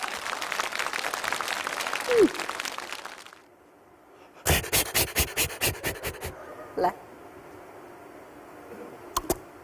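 A studio audience at a televised Chinese variety show applauds a hand-shadow act with a loud, sustained patter that stops after about three seconds. A run of sharp, evenly spaced clicks and a few isolated taps follow in quieter surroundings.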